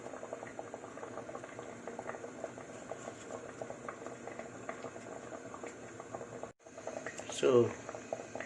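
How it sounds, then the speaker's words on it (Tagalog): Fish soup with ginger and carrots comes to a boil in a pot, giving a steady bubbling patter throughout, then a brief gap followed by louder clatter near the end. "bring to boil"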